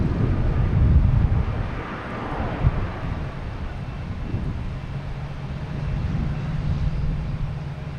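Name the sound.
United Airlines plane landing at Boston Logan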